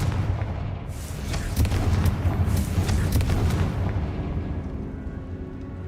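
A Confringo blasting curse goes off in the Hogwarts Legacy video game, a heavy booming blast with crackling bursts and a rumbling tail that fades over several seconds, with no talk.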